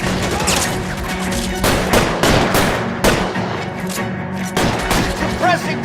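Repeated bursts of gunfire in the video game L.A. Noire, dense overlapping shots and thuds over a loud, busy firefight with no speech.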